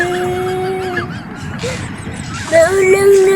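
A chicken gives several squawking, honking cries over steady outdoor background noise, growing louder and sharper toward the end.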